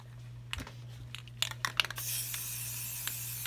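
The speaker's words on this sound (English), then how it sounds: "So you're just gonna spray paint." Rust-Oleum flat black spray paint is sprayed onto a Dollar Tree metal cookie tray: a few short clicks and hisses, then a steady close hiss as the can sprays continuously, over a low background hum.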